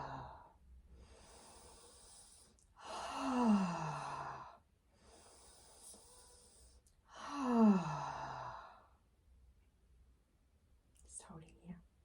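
Slow, deep breaths taken during a qigong exercise, two long breathy inhales and exhales close to the microphone with airy hiss and quiet pauses between, ending in a soft short breath in a quiet room.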